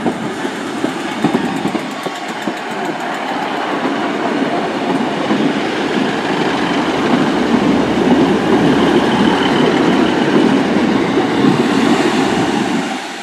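Class 153 diesel train in Citizens Rail livery passing through Newton Abbot station, a loud continuous rumble of engine and wheels with rhythmic clatter that builds and holds close by.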